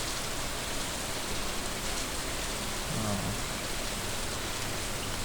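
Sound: rain hitting water in video game Stardew Valley

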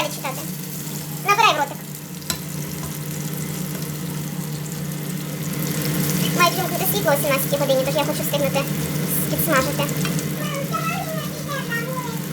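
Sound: food frying in a pan

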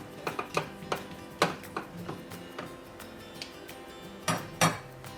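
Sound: stirring angel hair pasta into soup in a pot

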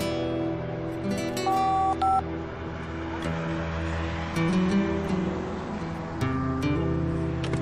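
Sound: telephone being dialed

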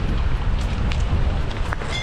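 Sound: wind blowing outdoors

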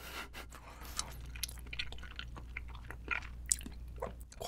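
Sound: chewing spicy seafood soup octopus

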